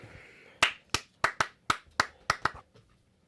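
Nine sharp hand claps at a slightly uneven pace, close and crisp in a quiet room, with the last one fainter.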